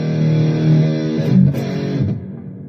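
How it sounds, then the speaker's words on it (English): An electric guitar plays through a Donner Arena2000 multi-effects pedal set to reverb, a sustained chord ringing and then decaying into a washy tail, alone and fairly loud. "I'm using the whole reverb."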